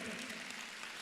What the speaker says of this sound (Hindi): ये तालियों की गड़गड़ाहट